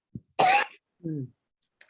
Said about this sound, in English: I can see you're coughing